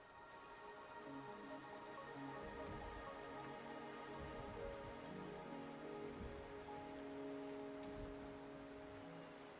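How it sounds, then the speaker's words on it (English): Steady rain falls and patters on surfaces in the video game Wuthering Waves, a constant even hiss with scattered drops and soft background music, with no voices. "The rain is subsiding, and the sky will soon clear."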